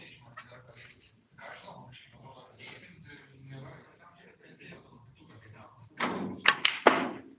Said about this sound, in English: So let's say I play the red with full power, and I'm gonna make a stunt shot.